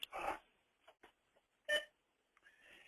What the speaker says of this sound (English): And that little beep is because it's a repeater.